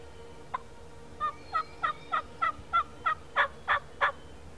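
Wild turkeys in Kansas call at daybreak, a run of about ten evenly spaced, rising raspy notes repeated at a steady rhythm from a moderate distance in quiet surroundings.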